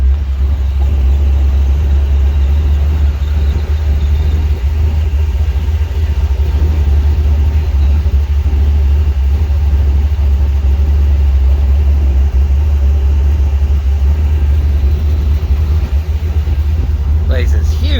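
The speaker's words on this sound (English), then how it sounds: "That big old blower motor." A big supercharged blower engine at a car show, rumbling steadily and loudly for the whole stretch with a deep, constant low-end drone and people talking over it.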